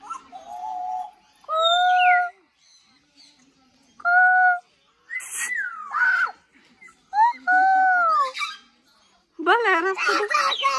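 Parrots at a zoo give loud, shrill, screechy calls in separate bursts with short quiet gaps between them, growing into a harsher flurry of squawks at the end.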